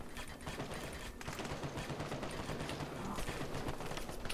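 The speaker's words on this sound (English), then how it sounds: "Both machine gun placements are still firing away." Machine gun placements firing during a port siege in the game Apocalypse 2066, a continuous faint rattle of rapid distant shots with mixed battle noise.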